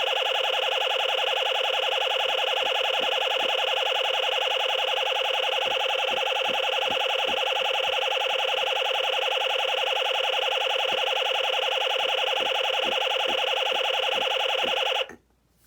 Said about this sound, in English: This is like a shooting sound.